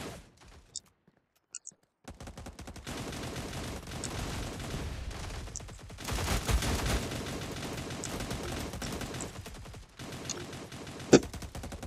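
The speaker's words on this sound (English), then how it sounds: "someone's shooting at me" Rapid gunfire in a Valorant- and PUBG-style anime shooter game: a few isolated shots, then sustained bursts of automatic fire close by, continuing in rattling volleys with a sharp louder shot near the end.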